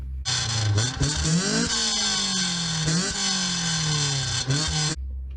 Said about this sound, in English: It sounds like somebody's revving their Honda up,